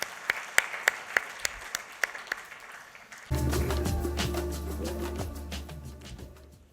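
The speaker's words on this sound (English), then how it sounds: "We want to applaud you." At a press meet, a few sharp, separate claps ring out at first, then a loud burst of music with deep bass cuts in and carries on to the end.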